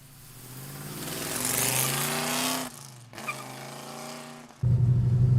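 A 1970 Mercury Cyclone Boss 429 V8 engine drones and swells steadily, dips briefly, then settles into a deep, loud, throbbing rumble up close.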